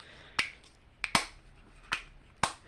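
A series of sharp plastic snaps from a diamond painting storage case of small containers closing, five or so crisp clicks spaced irregularly, close and fairly quiet against a still background.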